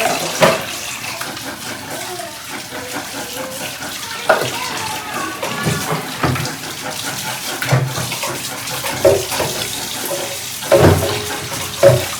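A running tap splashes water while dishes are rinsed, with occasional clinks and knocks and a voice faintly in the background.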